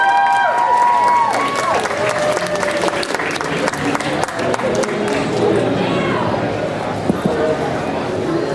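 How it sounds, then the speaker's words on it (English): A convention panel audience at a Sailor Moon celebration breaks into loud, sustained applause, dense clapping from a large crowd filling the room, slowly easing off toward the end. "Give them a round of applause, everybody!"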